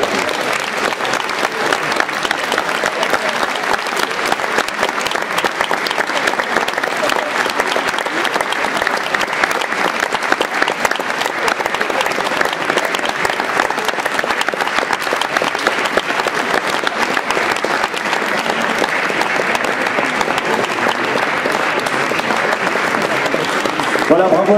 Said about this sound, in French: On va demander un petit peu de musique pour la photo et puis surtout applaudissez-la.